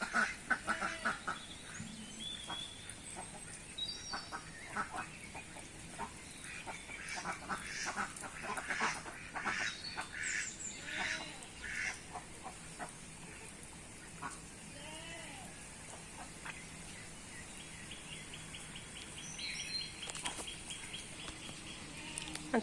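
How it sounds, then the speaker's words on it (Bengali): Ducks quacking repeatedly in a garden still flooded with rainwater, a steady scatter of nearby calls with some hen clucking mixed in, and a voice talking now and then over the birds. "আমাদের হাঁস"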